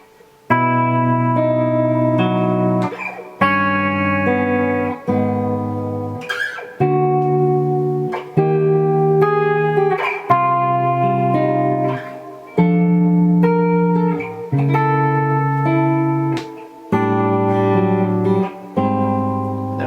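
Sustained chords ring out one after another on an electric guitar with effects, each strummed and held for about two seconds, clear and reverberant.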